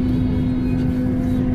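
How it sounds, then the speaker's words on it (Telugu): Airplane engines drone steadily and loudly inside the passenger cabin near the wing on a Hyderabad to Thailand flight, a constant close roar with a steady hum and no talk. "ఈ ఇంజన్ సౌండ్కి మొత్తం చెవులు గడలు పడతాయి."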